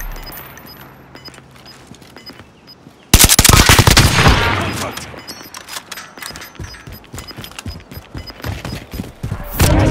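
Gunfire in Call of Duty: Modern Warfare: quiet at first, then a sudden loud blast and rapid close bursts of shots with echoing impacts that continue to the end.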